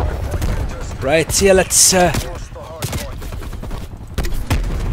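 An RPD light machine gun in a video game fires rapid bursts that crack out in clusters, mixed with someone talking over the shooting.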